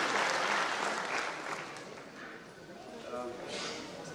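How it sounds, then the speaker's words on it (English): Audience applause at a formal meet in India for a speaker, a broad, steady wash of clapping from a large crowd that gradually thins, with faint voices beneath. "Can we have a big round of applause for him?"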